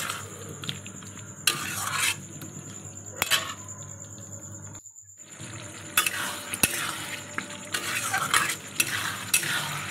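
Onions, some left whole, fry with spices in a pan for egg kosa with small potatoes, sizzling steadily while a utensil scrapes and clacks against the pan in bursts of stirring, with brief pauses between and no talking.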